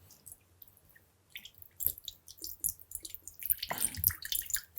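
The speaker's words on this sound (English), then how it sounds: "we're going to start off with some low sodium soy sauce" Low sodium soy sauce poured for a salad dressing, a few thin drips that grow into a short splashy pour near the end, close and fairly soft, no talk.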